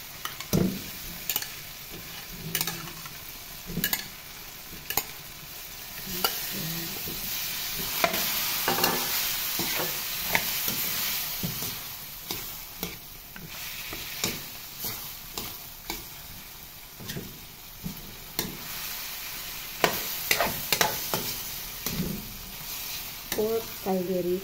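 Pork ribs frying in a pan with crushed garlic and tomato for pork caldereta, a steady close sizzle broken by repeated scraping stirs and clinks of a spoon.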